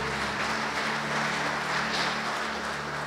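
A church congregation claps for God in a dense, steady wash of applause that fills the whole stretch with no clear pauses or speech on top.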